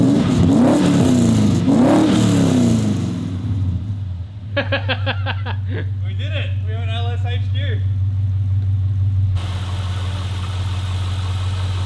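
LS V8 engine swapped into a Holden HQ on first start-up: loud revs at the start settle into a steady, deep idle rumble that runs throughout, with excited voices talking over it.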